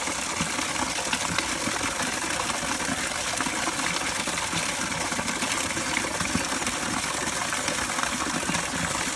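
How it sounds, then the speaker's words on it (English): Water pours steadily from a garden waterfall and flows back into a stream and pond in a Japanese-style sakura garden, a dense, continuous rushing that stays loud and even throughout with no voices. "the sound of the flowing water."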